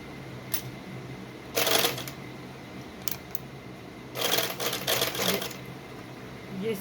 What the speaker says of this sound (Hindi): ये मैं अब इसके साथ साथ सिलाई लगाऊंगी